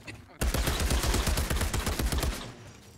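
A machine gun in Outriders rattles off one long, loud burst of rapid evenly spaced shots lasting over two seconds, then stops abruptly and the noise tails away.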